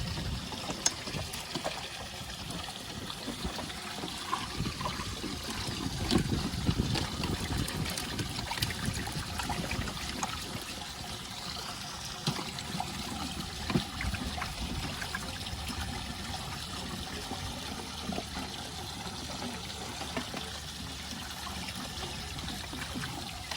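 Water trickles and pours steadily through air conditioning pipework during servicing, a continuous faint gurgling flow with some low background rumble.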